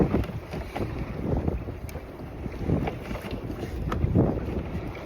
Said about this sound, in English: This wind's a little rough here.